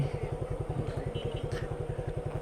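A motorcycle idles at night during a ride from Kushtia to Jhenaidah, its engine throbbing in a low, even, rapid pulse close by at moderate loudness, with no talk.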